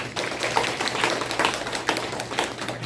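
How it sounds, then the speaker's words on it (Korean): Audience applause at a commemorative event marking 100 years of Han Yong-un's poetry collection 'The Silence of Love', a brief burst of many hands clapping at moderate level, fairly even and unbroken from start to finish. "예, 큰 박수로 한번"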